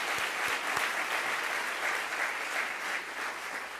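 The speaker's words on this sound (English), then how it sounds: "Let's have a round of applause for Pam and everybody that worked on that te" Sustained audience applause at a city's State of the City address, a dense, even wash of many hands clapping at steady loudness, with no talk over it.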